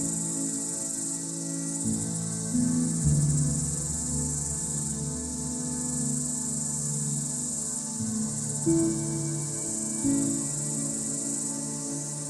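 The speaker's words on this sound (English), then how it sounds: "Cicadas are fascinating insects known for their loud, distinctive songs and unique life cycles." Cicadas singing outdoors: a loud, steady high-pitched buzzing drone runs unbroken through the whole stretch, with lower rumbling and scattered background sounds beneath it.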